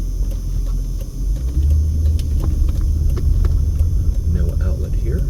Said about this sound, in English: we've got a car coming at us here